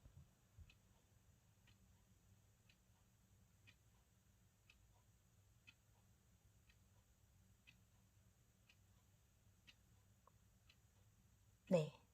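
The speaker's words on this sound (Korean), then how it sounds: "시계 소리가 조금 많이 들어오죠" A clock ticks steadily about once per second, faint and close, over a low background hum during a ten-second countdown, ending with a brief louder knock.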